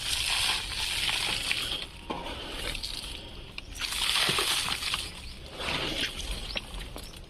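Bone meal fertilizer is scattered around the base of a mulberry tree, heard as close, gritty crunching and rustling in several sweeps with brief pauses between them.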